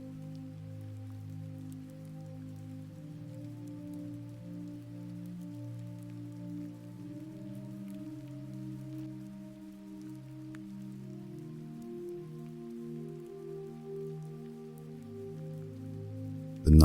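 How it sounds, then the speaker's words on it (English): Soft rain falls outside as a faint, even hiss beneath gentle sustained music that lasts the whole stretch. "The rain outside sounds softer now, like a song that knows it has been heard."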